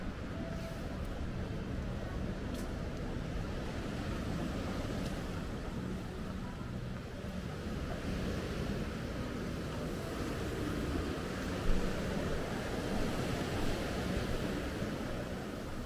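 Sea waves wash steadily onto an empty winter beach on the Black Sea at Alushta, a continuous broad surf roar with gentle swells in loudness and no one talking.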